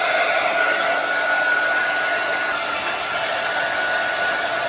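A heat gun roars with a steady, even airflow whoosh and a faint high tonal whine, held close and loud without pause while warming glued-on patches on a Dollar Tree snowman craft.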